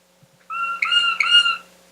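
A bird song recording is played back, a single clear whistled phrase of a few linked syllables rising and falling, heard alone against near silence.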